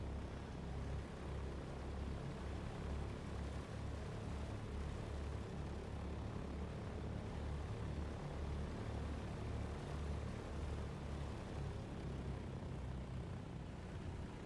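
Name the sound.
Douglas DC-3 propeller airplane engine in flight simulator game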